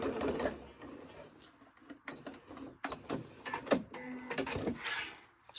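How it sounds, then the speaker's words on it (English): A sewing machine stitches fabric scraps in short, uneven bursts of rapid mechanical clatter, close by, with brief pauses between runs. "Let's put 2 stitches across there."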